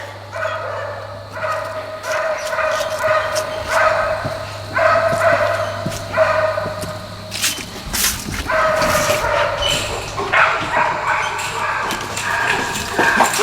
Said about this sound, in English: He's a puppy, obviously, because he has no manners, and he likes to bark.